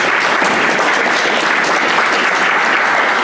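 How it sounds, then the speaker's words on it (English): Audience applause at a STEM speaker series talk, a steady dense clapping that fills the room from start to finish without a break. "We give her a round of applause."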